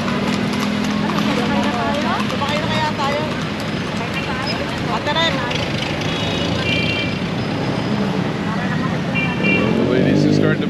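Horse hooves clip-clop in a steady trotting rhythm on a busy street in Manila, heard from a bus amid traffic noise, with people talking over it throughout.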